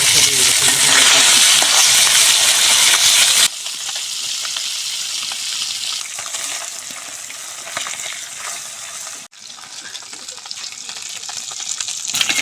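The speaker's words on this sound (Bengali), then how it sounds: "এখন হচ্ছে মাছগুলো হালকা করে ভাজবো" Small fresh local fish, the kind later cooked with bottle gourd, sizzle and spit loudly in hot oil in a pan, a steady crackling fry that drops to a quieter bubbling partway through, with a brief break near the end.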